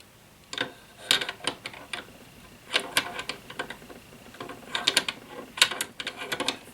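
An M1A rifle's bolt cycles and locks into the receiver, giving sharp metallic clicks and clacks in irregular bursts, close and crisp, with faint handling noise between them.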